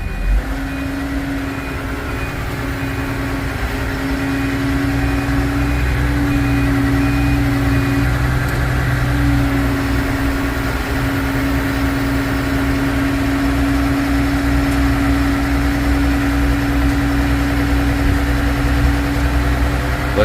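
A truck engine idles with a steady mid-pitched drone and a low rumble while the truck slowly backs up a trailer hauling a John Deere cultivator, loud and constant throughout.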